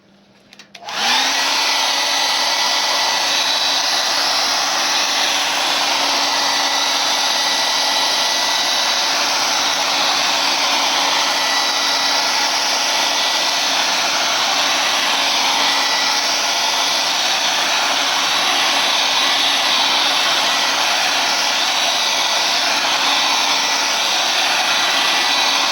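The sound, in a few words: blow dryer setting spray paint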